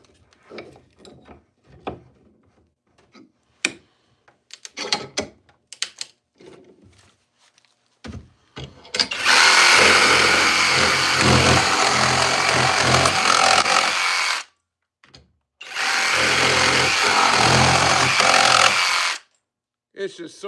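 A Flex power tool set to speed 3 starts with scattered taps and brief voice sounds, then runs in two long, loud, steady bursts, each cutting off abruptly, with a short pause between them.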